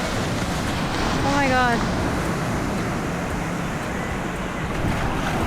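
Ocean waves at Flamingo beach in Costa Rica: a broad, steady wash of surf with wind noise buffeting the microphone, continuous and fairly loud, with a brief exclamation from a person partway through.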